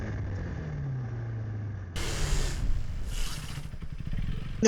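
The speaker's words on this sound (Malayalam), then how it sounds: "നമുക്ക് ഈ ബൈക്കിൻ്റെ ബ്രേക്കിംഗ് പെർഫോമൻസ് എങ്ങനെയാണെന്ന് നോക്കി നോക്കാം." A KTM Duke 250 Gen 3 motorcycle is put through a braking test: a low engine drone with a falling pitch, then two bursts of harsh broadband scraping and hiss, fairly close, with no voices.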